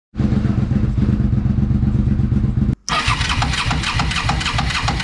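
A moped engine with about 8 bar of compression on the old motor starts for a hot compression test and runs loud and close, cuts out briefly, then revs harder.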